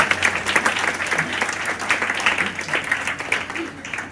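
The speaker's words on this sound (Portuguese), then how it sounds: "Dá um aplauso aí." An audience at a church congress lecture breaks into steady, dense applause, many hands clapping together in a sustained wash that fills the room without pause.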